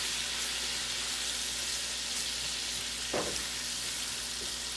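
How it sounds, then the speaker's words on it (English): Turkey bacon sizzles steadily in a hot pan, a close, even hiss throughout with one brief clink partway through. "we're going to put our turkey bacon in first. Allow that to start cooking."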